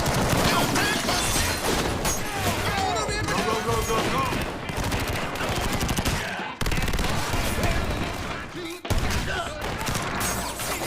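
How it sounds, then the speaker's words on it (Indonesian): Rapid bursts of automatic gunfire from an armed group in an action film shootout, loud and dense throughout with continuous shots, crashes and mechanical clatter, with brief drops to near silence around the middle. "sekelompok orang bersenjata yang langsung menembaki"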